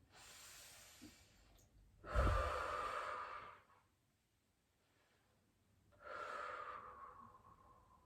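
Heavy breathing during an abdominal exercise, two long loud exhalations separated by a quiet pause, close and breathy with no talking.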